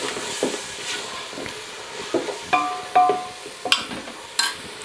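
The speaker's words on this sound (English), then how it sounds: "And we mix up." Fish and tomato sauce being mixed in a pan for a Rwandan boiled fish and Irish potato dish: a soft steady sizzle, with scattered scraping and clinking strokes of a utensil growing louder toward the end.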